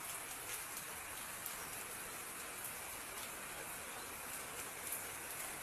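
Light rain falls steadily in a drizzle, a soft continuous hiss with faint patter of drops, even and unbroken throughout.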